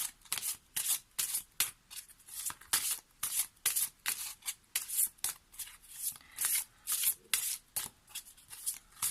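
Tarot cards are shuffled and handled in a steady rhythm of quick riffling bursts while a card is drawn, close and crisp with no speech.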